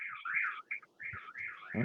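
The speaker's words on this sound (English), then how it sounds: "car alarm's going off" A car alarm wails at a moderate distance, its warbling electronic siren cycling through rising and falling tones with brief breaks, fairly faint, with a voice starting to speak at the very end.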